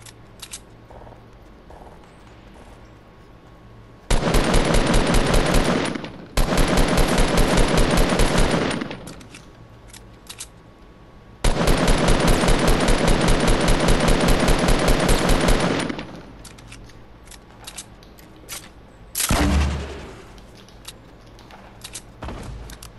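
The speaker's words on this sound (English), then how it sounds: "I heard gunshots." Rapid automatic gunfire in the Fortnite video game comes in three long, loud sustained bursts separated by quiet gaps, followed by a few scattered shots and a short final burst.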